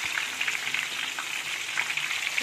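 Battered tofu fries in hot oil, giving a steady crackling sizzle with dense popping throughout, fairly soft and close, with no talk.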